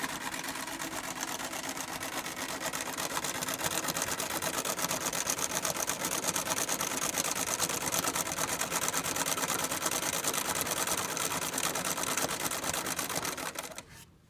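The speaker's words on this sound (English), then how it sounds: "And now we should be making a fairly nice satin stitch." Singer 306 sewing machine sewing a satin stitch at reduced feed speed, a steady, fast, even mechanical whirring and needle rattle running continuously for about fourteen seconds before stopping abruptly.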